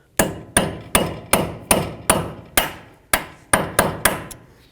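A metal hammer strikes a staked axle nut on a 2001-06 Toyota Camry about eleven times in a steady, close, ringing rhythm, each blow loud and sharp with a short decaying clang.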